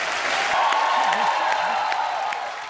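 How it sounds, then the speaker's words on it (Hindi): Studio audience applause on a comedy talk show set, a steady, dense wash of clapping that holds at an even level for a few seconds before easing slightly at the end. "जोरदार तालियां हो जाए एक बार।"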